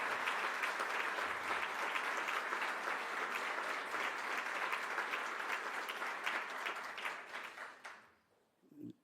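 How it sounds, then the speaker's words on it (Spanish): An audience applauds the Alberti bookshop and Lola at a bookshop anniversary event, sustained, even clapping from many people that dies away near the end, followed by a brief soft noise. "pido otro aplauso para la librería Alberti y para Lola"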